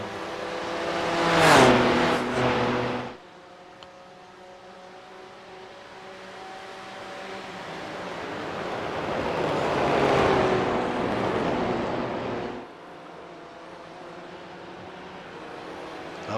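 GT3 race cars climb the hill at Bathurst in a racing video game: one roars close by with a sharp pitch drop, then engines drone steadily, swelling and fading as the pack pulls away.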